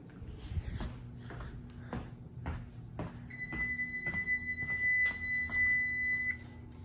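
A kitchen timer beeps beside a living soil aquarium setup, a short run of evenly spaced electronic beeps with a thin steady tone over several seconds, fairly faint against a quiet room with light knocks.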